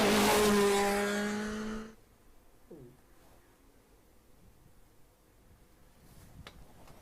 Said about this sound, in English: So this is the high revving 2-litre normally aspirated car.